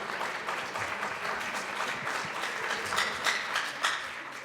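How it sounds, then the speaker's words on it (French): A young audience claps in sustained, even applause after a discussion event, a dense wash of hands with a few louder individual claps standing out near the end. "merci à tous les jeunes qui ont applaudi"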